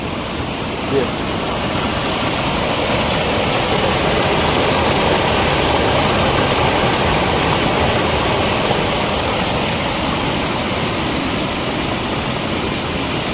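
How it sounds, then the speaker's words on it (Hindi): Muddy rainwater in the hills pours down like a waterfall, producing a loud, steady broadband roar that fills the whole stretch without letup. "यहाँ तो पूरा नीचे झरना सा बन गया ये"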